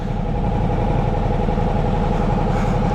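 A Ducati Diavel V4 motorcycle with the V4S 1200 engine idles close by, a steady, loud, even rumble with a fine pulsing texture that holds unchanged throughout, with no voices over it.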